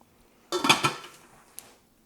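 An Aroma rice cooker is plugged in and switched on: a short close rattling clatter of handling, then a single faint click a moment later, with no one talking.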